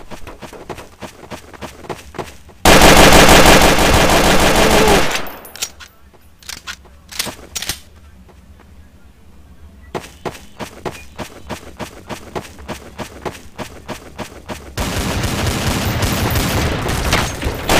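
Rapid automatic gunfire in Counter-Strike: Source, a loud sustained burst followed by sparse single shots and footsteps, then another steady stretch of firing, with players talking over it.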